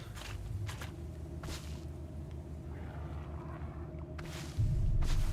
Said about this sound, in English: You're making a noise when stepping on bridgestones.